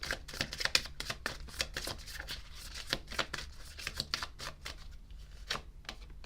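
Tarot cards being shuffled by hand, a rapid run of soft riffling flicks and taps close up, fairly quiet and steady throughout with no voice.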